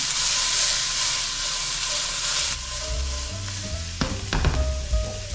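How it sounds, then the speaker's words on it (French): Garlic and onions frying among mixed vegetables in a pan at a camping stove for fried rice: a loud, dense sizzle that eases partway through, followed by clattering stirs and scrapes of a utensil. "on va mettre l'ail, les oignons."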